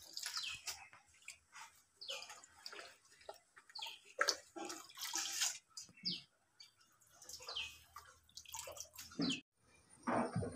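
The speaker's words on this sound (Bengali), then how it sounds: "একটু জল দিয়েছি, এবার একটু নুন দিয়ে দেবো জলের মধ্যে" Water is poured into a cooking pan for frying drumstick (moringa) leaves, in intermittent splashes and trickles, with faint birdsong chirping in the background.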